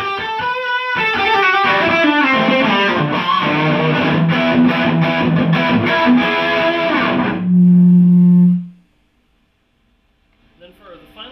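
Distorted electric guitar playing chords and runs through a PRS amplifier with the mids boosted, ending on a sustained low note that cuts off into silence.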